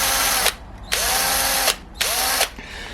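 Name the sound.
drilling a small hole with a drill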